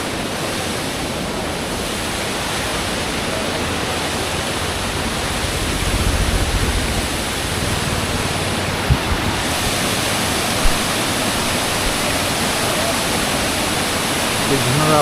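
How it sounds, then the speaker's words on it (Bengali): A waterfall near Kurseong in the Darjeeling hills pours with a steady, broadband roar that stays dense and loud throughout, with no pauses. "একটা সুন্দর ঝর্ণা।"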